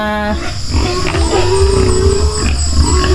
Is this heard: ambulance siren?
no